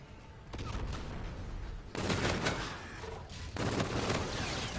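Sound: gunfire in Call of Duty Infinite Warfare video game

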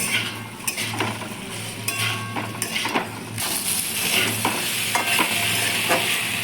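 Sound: sautéing squash in a pan

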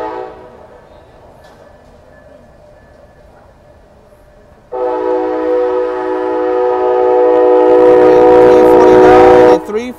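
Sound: Amtrak Coast Starlight passenger train #11 passing, ALC-42 locomotive leading

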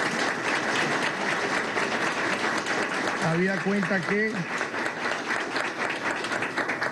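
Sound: audience applause for graduates

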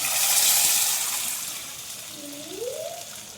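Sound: lentils added to frying ginger-cumin paste

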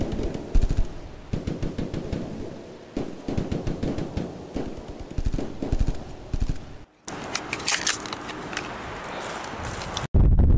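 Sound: machine gun fire, video game

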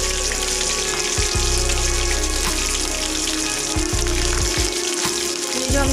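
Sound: curry leaves and green chillies frying with cumin in oil

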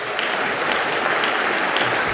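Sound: banquet audience clapping

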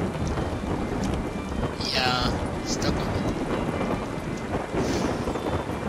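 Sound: thunderstorm with rain, from video game Yonder

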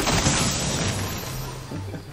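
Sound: fireworks from a buried treasure chest in the video game Fortnite

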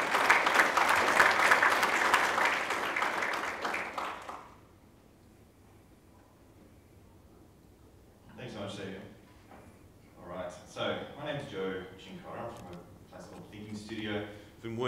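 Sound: audience applause at a panel

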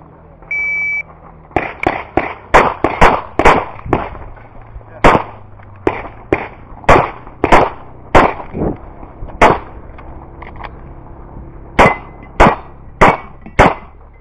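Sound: pistol shots at a shooting competition, CZ 75 SP-01 Shadow

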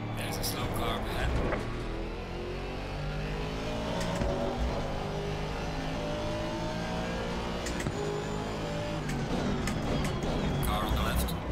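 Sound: race cars driving in video game Assetto Corsa Competizione

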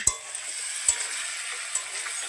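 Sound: bitter gourd and potatoes frying in a pan

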